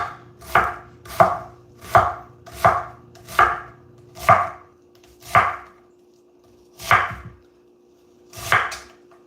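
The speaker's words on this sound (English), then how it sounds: "when you're chopping onions, if you practice a little bit, you will get to the point to where you do this fast enough" A knife chops onions on a cutting board in a steady run of about ten sharp, close strikes, evenly paced at first and then slowing. A low constant hum sits underneath.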